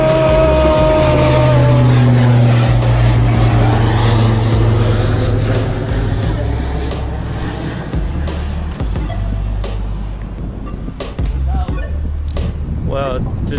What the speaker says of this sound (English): So everyone come here to watch airplane come from this way, go landing here.